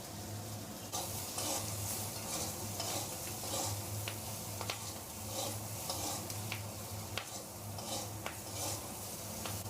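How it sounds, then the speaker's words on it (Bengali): Hilsa curry spices with green chilli and cumin powder being sautéed in a pan for Bengali fish curry, a steady close sizzle with repeated scraping stirs and occasional sharp clicks, no voices. "ভালো করে কষানো হয়ে গেছে"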